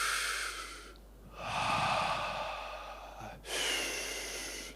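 Deep breathwork breaths heard up close: a long airy inhale, a pause, then another forceful drawn-in breath, loud and hissing with no speech.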